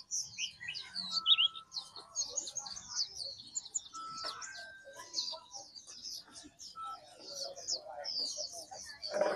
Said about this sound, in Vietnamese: Đây chim rồng rộc này, chim rồng rộc này